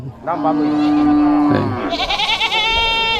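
Goats at a traditional rural village goat market bleat loudly and close by in long wavering calls, with crowd chatter and voices mixed in.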